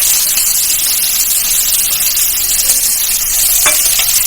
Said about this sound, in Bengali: তেল গরম হয়ে গেছে, আমি পেঁয়াজ কুচিটা দিয়ে দিলাম।